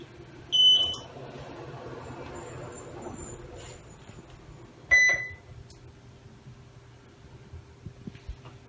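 A Monnal T75 ventilator from Air Liquide is switched on and gives two short clusters of electronic beeps about four seconds apart. The beeps are loud against a quiet hum and faint handling noises.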